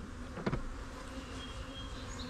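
Bees buzzing around closely spaced beehives in a garden, a faint steady outdoor hum with a brief louder knock near the start and no talk.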